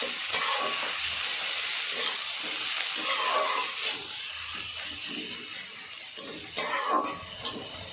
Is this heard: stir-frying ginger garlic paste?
yes